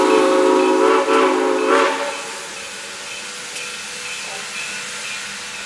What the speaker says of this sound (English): The locomotive has picked up plenty of speed as it flies through the fields of Thomas Valley.